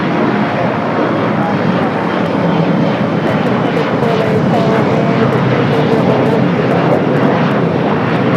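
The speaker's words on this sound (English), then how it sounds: "SpaceX 737-800 looks like it's going to be a 25 at left takeoff." A Boeing 737-800 jet at LAX airport roars during takeoff, a loud, steady, broadband engine rumble that fills the whole stretch without letup.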